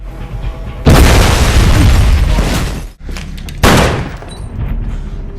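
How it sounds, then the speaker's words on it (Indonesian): A house blows up in a film scene after a gas pipe inside is damaged: two heavy, loud booming blasts with a rumbling roar that fades between them, close and with no voices. "ia meledakkan rumah dengan merusak pipa gas di dalamnya"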